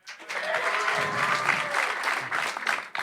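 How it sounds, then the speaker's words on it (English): A comedy club audience claps steadily for about three seconds, a dense, even wash of hands with a few scattered cheers, fairly close and filling the room without any voice on top. "Clap your hands."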